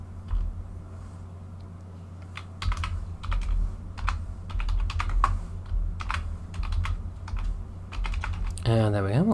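A computer keyboard is typed on while naming a new material in Blender, quick bursts of close clicky keystrokes in an irregular rhythm over a low hum, ending with a brief rising tone.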